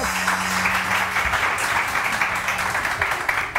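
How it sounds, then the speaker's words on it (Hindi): Studio audience applause on a morning TV cooking show, a steady dense patter of many hands clapping throughout, loud and close with no talk over it. "बहुत सारी तालियां जी, जबरदस्त।"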